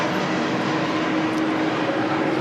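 Qantas 43 departs Sydney Airport for Denpasar, Bali, in wet, windy weather, with a short burst of steady, dense jet engine roar.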